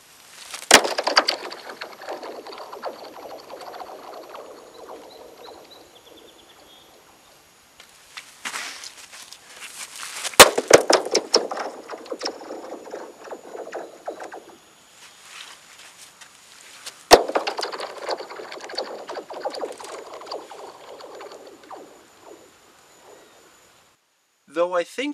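Sticks thrown across thin ice, each skim a bright chirping, zinging slide that starts with a sharp crack and fades over several seconds, repeated in four separate bursts with quiet gaps between.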